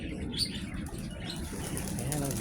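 Pigeons flap their wings in brief, soft fluttering bursts at a game farm, faint and close, with light background rustle and occasional chirps.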